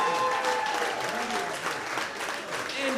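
A comedy club audience applauds a contest winner, a steady, fairly distant round of clapping with a faint crowd murmur and a voice carrying through from the stage.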